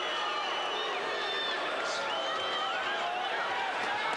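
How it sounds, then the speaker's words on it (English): Crowd booing at the Mike McCallum vs Roy Jones Jr boxing match, a dense, continuous roar of disapproval filling the arena with no clear breaks. "I don't know why the crowd are booing"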